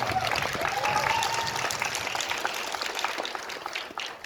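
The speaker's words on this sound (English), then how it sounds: "Big round of applause." Loud, sustained applause from a film premiere Q&A audience at TIFF, dense clapping that gradually thins toward the end, with some voices mixed in.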